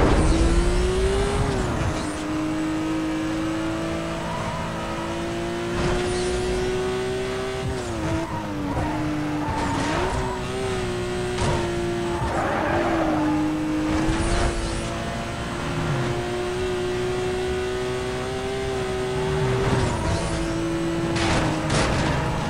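Porsche 911 Turbo S engine racing in Need for Speed: Most Wanted, a steady, loud drone with rising and falling revs through gear changes, punctuated by tire squeals and skids, with no talk over it.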